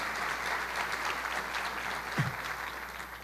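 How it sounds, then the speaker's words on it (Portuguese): Steady applause from a church congregation answering a pastor's call, a dense, even wash of clapping lasting a few seconds with one louder thump near the end. "Você pode dar um aplauso ao Senhor?"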